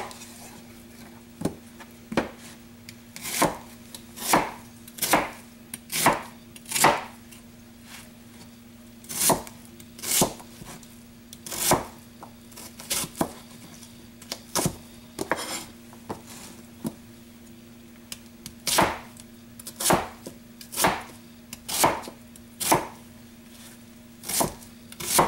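Sharp kitchen knife chopping on a cutting board during Cajun roux prep: crisp, evenly spaced chops about once a second, close and clear, over a faint steady hum with no talking.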